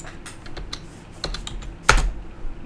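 Rapid keystrokes on a computer keyboard, an irregular stream of close clicks with a sharper, louder clack near the end, with no one talking.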